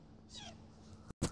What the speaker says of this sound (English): No ocelots in my lovely world.